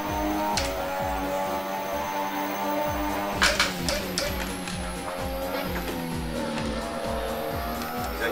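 Formula Hybrid 2017 race car in the Assetto Corsa racing game, its engine revving hard and loud through rapid upshifts as it accelerates, with tire squeal and skidding mixed in.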